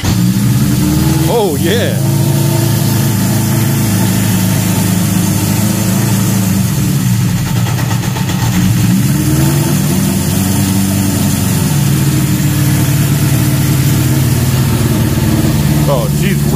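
A Honda engine, choke on, idles steadily and close, its low throbbing drone continuous with slight wavering, while someone speaks briefly over it.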